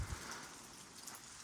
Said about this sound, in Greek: Έξω γίνεται χαμός, φοβερός αέρας, βροχή